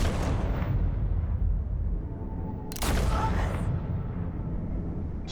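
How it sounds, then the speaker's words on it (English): Gunfire in the Telltale Batman video game: one loud, sharp shot cracks out partway through over a heavy, continuous rumbling backdrop. "Two shots."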